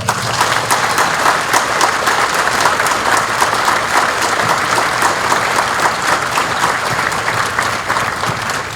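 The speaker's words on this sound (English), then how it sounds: "please join me in giving our awardees a round of applause" Audience applause at a military graduation ceremony honoring awardees, a dense, steady wash of many hands clapping that stays loud and even throughout, with no voices standing out.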